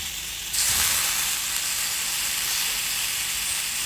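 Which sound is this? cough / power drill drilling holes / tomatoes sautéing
tomatoes sautéing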